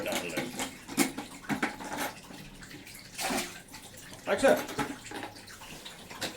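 Water poured from a bucket during an aquarium water change, splashing and gurgling in uneven surges with short pauses, close by, while a person speaks briefly.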